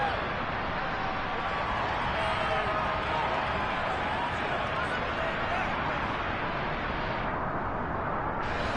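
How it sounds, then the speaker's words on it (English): Stadium crowd at an American football game swelling ahead of a big third down late in the fourth quarter of a one-score game, a steady dense roar of cheering and babble filling the whole stretch without a break. "The crowd getting into it as we come up on a big third down"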